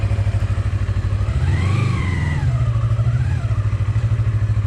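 A Colove 321RR motorcycle rides at a steady engine drone, with the pitch rising and dipping briefly as it shifts gears, heard close and fairly loud throughout.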